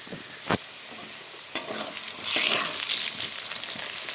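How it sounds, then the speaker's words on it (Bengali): Potatoes with turmeric frying in oil in a pan, a steady close sizzle broken by a couple of sharp utensil clicks from stirring. "আলুগুলোকে লাল করে ভেজে নেব এখন"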